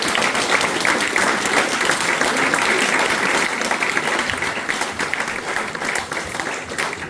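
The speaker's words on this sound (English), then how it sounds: "Give yourselves a round of applause." An Eagle Scout ceremony audience claps in sustained, dense applause that stays loud and steady throughout, easing only slightly toward the end.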